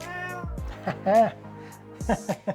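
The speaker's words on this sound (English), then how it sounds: "Oh, hello, cat." A house cat meows close by, one clear rising-and-falling cry followed by a few shorter chirping meows. A voice is also heard briefly.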